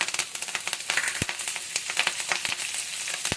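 Curry leaves hiss and spit in hot oil over lightly browned chana dal tempering for a potato and taro curry, a dense close-up sizzle peppered with sharp, irregular pops and crackles, with no talking.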